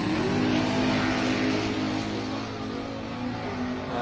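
A boosted car at full throttle in a $100 grudge race, its engine roaring loud and steady as it accelerates hard, with a continuous strained drone and no talking.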